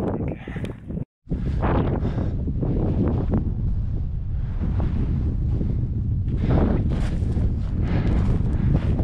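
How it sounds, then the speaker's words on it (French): Strong wind buffets the microphone on Pico del Teide mountain, roaring in loud, uneven gusts with a brief lull near the start, with no voices. "C'est le vent qui me gèle."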